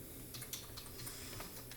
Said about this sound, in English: Pardon me, I'm moving my keyboard